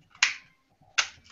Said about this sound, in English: I'm figuring out my mouse. I'm switching to one that sounds less than when I click it.